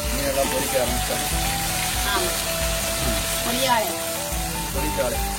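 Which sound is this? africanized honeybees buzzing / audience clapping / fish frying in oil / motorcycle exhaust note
fish frying in oil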